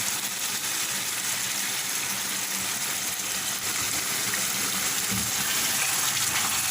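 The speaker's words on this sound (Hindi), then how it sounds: "अब इसमें शामिल करेंगे तेल" A quarter cup of cooking oil poured into a karahi for tandoori chicken karahi, a loud, steady, close rushing pour that continues without pause throughout, with a faint low thump partway through.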